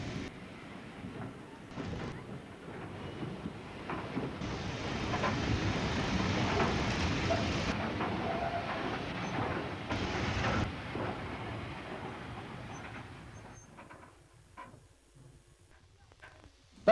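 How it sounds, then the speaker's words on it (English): Push-pull train arriving at East Grinstead high-level station from Three Bridges, a distant rumble swelling into a steady rolling roar, then fading away to quiet clicks and faint station noise. "A push-pull train arrives at the high-level station from 3 bridges,"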